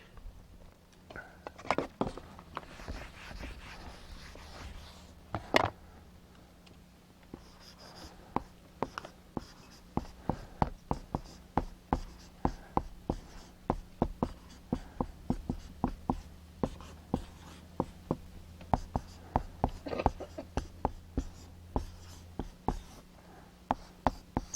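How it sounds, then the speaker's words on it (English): Chalk or marker tapping and scratching on a board in a lecture room, a long series of sharp, evenly spaced strokes, fairly close, with a low hum beneath and little else. "I'll write it up here."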